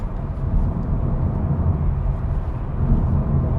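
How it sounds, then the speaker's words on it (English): A steady, low roar of tyres rolling over the road from inside a moving 2020 SEAT Leon FR in sixth gear, constant and fairly loud with no voices. "the tyre noise is quite audible now. Not deafening, but yes, noticeable for sure"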